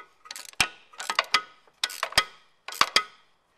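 A 3/8 socket ratchet tightens the gearbox oil plug on a Chevrolet during clutch replacement, giving four short bursts of clicking with sharp ticks, close and clear, with no talking.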